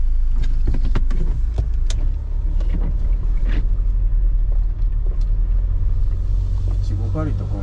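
A camper van sets off in the rain and drives away, its low engine and road rumble steady and close inside the cabin, with a few clicks and knocks at the start and people talking over it.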